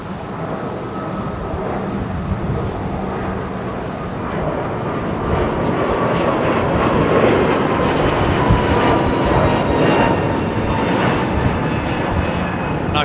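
A JetBlue Airbus A321neo at an airport's runway 09R gives a steady, broad jet engine roar that swells gradually, heard from a distance with a faint voice now and then.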